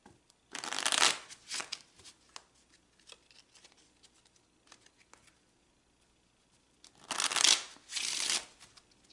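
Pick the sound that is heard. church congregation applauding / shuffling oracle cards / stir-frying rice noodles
shuffling oracle cards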